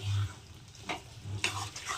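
Chicken liver with spices fries in a pan while being stirred, giving soft sizzling with a few scraping strokes of the spoon, close and fairly quiet.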